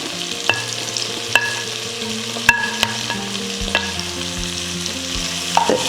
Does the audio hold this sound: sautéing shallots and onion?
yes